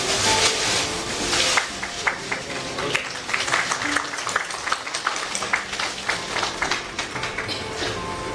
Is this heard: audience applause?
yes